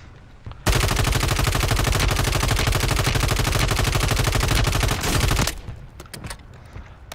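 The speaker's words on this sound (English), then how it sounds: "I put a mortar over there at the bottom of the hill." Mortar strike explosions in Call of Duty on the Urzikstan map, a loud, rapid, sustained roar of blasts lasting about five seconds before cutting off abruptly, then quieter scattered sounds.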